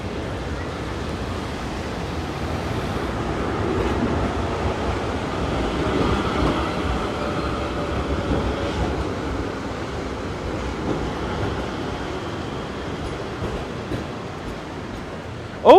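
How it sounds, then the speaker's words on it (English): A tram rolls past on a street near Campo de' Fiori in Rome, a sustained broad rumble and rail hiss that swells and fades over several seconds, close and fairly loud with faint city noise around. "Here's the tram passing by right now."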